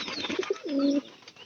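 Pigeons in a house give a soft, close coo, two short notes followed by a longer throaty rolling call, while faint chirps sound in the background.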